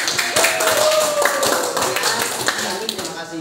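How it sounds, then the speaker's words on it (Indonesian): Classroom applause after a group presentation, a patter of claps filling the room with talk over it. "beri aplaus dulu"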